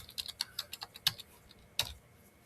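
Quick, light keystrokes on a computer keyboard in a quiet room, an irregular run of clicks that ends with a couple of firmer taps.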